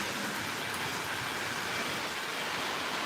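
An O gauge model train runs along its track at steady speed, giving a continuous broad rolling rumble and hiss with no pauses, close and fairly loud throughout.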